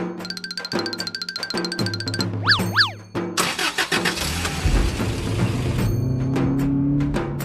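A jeep engine cranks and catches, then settles into a steady running idle, preceded by chiming tones and cartoonish sound effects with no talking heard.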